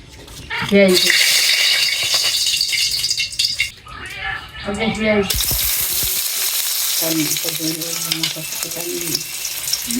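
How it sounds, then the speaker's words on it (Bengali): Fish fry in a pan in a village home kitchen, sizzling loudly and crackling throughout while people talk over it in short bursts. "মাছ ভাজা লাগবো"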